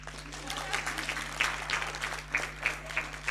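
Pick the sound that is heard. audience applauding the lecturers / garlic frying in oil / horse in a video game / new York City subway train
audience applauding the lecturers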